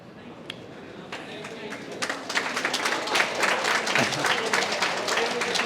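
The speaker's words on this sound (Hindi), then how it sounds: "ये जो तालियां आपने बजाई हैं" Clapping from an audience at a university entrepreneurship awareness program, starting sparse and scattered, then building into fuller, denser applause across the room, with some murmuring underneath.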